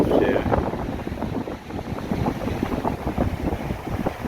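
Blustery wind buffets across a soft-sanded beach by turquoise water, a steady loud rush with gusty surges and rumble throughout.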